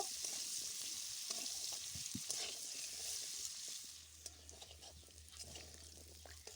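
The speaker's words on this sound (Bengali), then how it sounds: "এর মধ্যে দিয়ে দিলাম সামান্য একটু হলুদ আর সামান্য একটু লবণ। আলুটা একটু হালকা করে ভেজে নেব।" Potato pieces with turmeric and salt fry gently in a pan. A soft, even sizzle is broken by occasional stirring clicks, and a low steady hum enters partway through. No talk.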